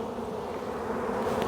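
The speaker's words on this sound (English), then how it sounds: "let's see if we can get this put back together and get these bees settled down a little bit." Honey bees swarm and buzz around an opened hive during a queen check, a dense steady drone close by and fairly loud, with no talking.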